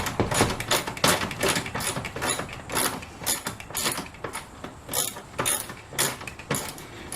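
A ratchet backing a Torx T45 bolt out of a 1996 Ford F150 bucket seat frame, with loud close bursts of ratcheting clicks repeating in a steady stroke rhythm and no talk.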